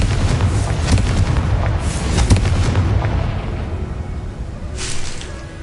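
A Confringo blasting spell goes off in the Hogwarts Legacy game with a series of heavy booming explosions, loud and close, followed by a rumbling tail and a sharper burst near the end.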